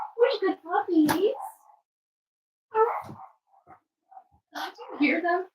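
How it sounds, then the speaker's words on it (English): Puppies make soft, rolling growly purrs and little whimpers in short bursts, close by, with a quiet gap in the middle. "Do you hear them purring? It's like a growl, but it sounds like a purr."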